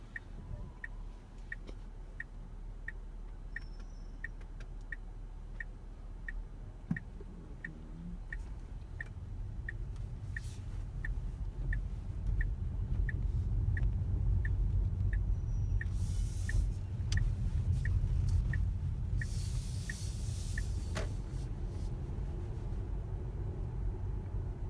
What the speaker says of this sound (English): So you can see I don't even have to hit the brakes as we approach the speed bumps.